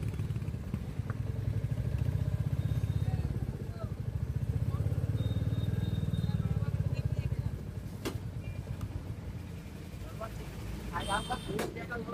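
A Royal Enfield Classic 350 motorcycle rides along with a low, thumping single-cylinder engine drone that swells and eases, heard alongside road noise and a few clanks, while someone talks over it.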